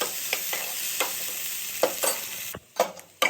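Green chillies frying in hot oil in a pan, a steady close sizzle broken by several stirring scrapes and a brief dip near the end, with no talking.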